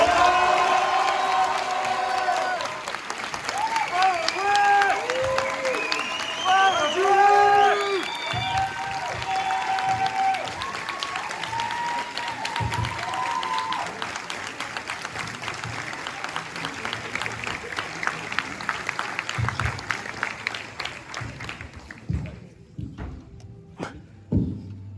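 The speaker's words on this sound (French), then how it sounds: "merci d'accueillir et de faire un tonnerre d'applaudissements à notre porte-parole" A student audience in a lecture hall cheers, whoops and applauds their spokesperson and president at an announcement assembly, a dense, loud crowd roar with shouting and clapping that fades near the end.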